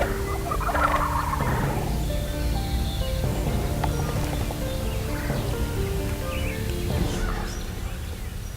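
A wild turkey hen gives repeated nearby yelps and clucks in timber near decoys, with softer gobbling calls and rustling around it.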